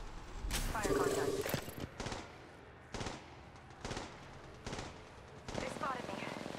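Gunfire in the mobile battle-royale game Apex Legends Mobile: several short bursts of automatic weapon fire at irregular intervals, fairly quiet, mixed with in-game voice lines and player speech.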